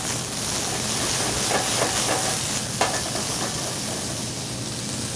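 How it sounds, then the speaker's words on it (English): Chicken breast sautés in a pan after white wine is added, giving a steady, loud sizzle and hiss with a few brief clanks and pan movements. "just hit it with a little bit of white wine here. Okay. And just give it some flips. Saute it nicely."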